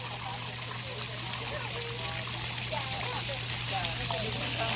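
Cold water trickles and burbles steadily in the background at a zoo, soft and continuous, with a low hum underneath and no clear speech.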